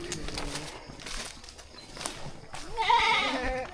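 Goats bleat on a hillside hiking trail in Cebu, a faint cry early on and a clearer, louder bleat near the end, among soft outdoor ambience.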